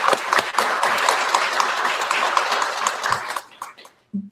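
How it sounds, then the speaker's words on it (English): Applause from an audience at an evening arts event at the Kalamazoo Institute of Arts, a dense, steady patter of many hands that stays loud for about three seconds before thinning into scattered claps and fading out. "So I'd like to just give a round of applause."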